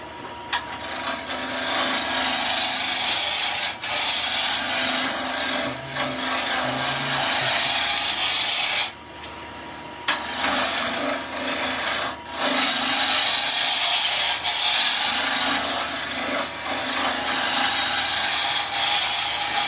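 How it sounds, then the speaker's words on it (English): Wood is roughed down to a cylinder on a lathe for a salt and pepper mill, a loud, steady rasping scrape from the turning tool against spinning wood, broken by a few short pauses. "So let's rough down to cylinder."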